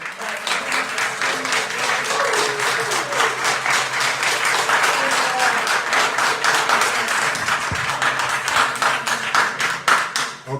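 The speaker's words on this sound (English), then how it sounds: "applause and stuff, that's fine, you can do that" Audience applause at a Calhoun County council meeting, a sustained round of crowd clapping that swells and fades in waves over about ten seconds, with some scattered voices mixed in.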